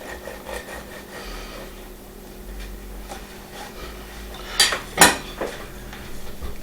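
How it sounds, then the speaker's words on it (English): A knife saws through a loaf of Irish soda bread, a soft low scraping under kitchen hum, ending in a couple of brief sharp clinks near the end. "I'm going ahead and cut one"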